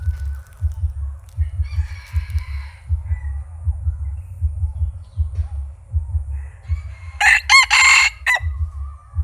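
A rooster crows once loudly and close, a short ringing call near the end, over a steady rhythmic low thumping and faint background bird and fowl sounds, with no talk.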